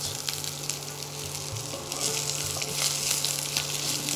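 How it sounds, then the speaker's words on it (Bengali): Mixed vegetables and cabbage fry in a pan for labra, a Bengali mixed-vegetable dish, with a soft, steady sizzle and a low hum beneath it. The sizzle swells slightly in the second half, and no one speaks. "এই সবজি ভাজা ভাজা হতে শুরু করলে"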